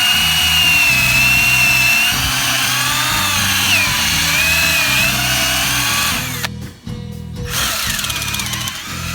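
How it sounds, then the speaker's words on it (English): Power drill boring an upward-angled tap hole into a maple tree, a loud whining motor with shifting pitch that drops out briefly near the end, then resumes. "we're going to drill a hole using our drill bit"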